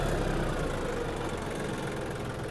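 Yanmar F-20 diesel mini tractor idling with a steady, continuous low rumble close by, alone without talk.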